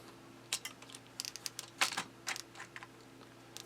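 Typing on a repaired Amiga 500 keyboard, a quick run of light plastic key clicks in irregular clusters, close but fairly quiet over a faint steady hum, with no speech.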